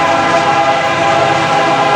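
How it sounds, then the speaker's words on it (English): Gen 1 K5LLA horn on a Union Pacific Thundercab locomotive on the Atlanta North End, a loud, sustained multi-chime chord blowing steadily and close for two seconds with rumbling train noise beneath. "my favorite horn out of all horns ever made is a narrow font Gen 1 K5 LLA"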